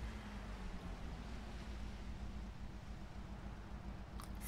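A Russian M4A2 Sherman tank engine in War Thunder rumbles steadily and low throughout, a continuous droning mechanical hum with some wind-like noise over it and a brief higher clank near the end.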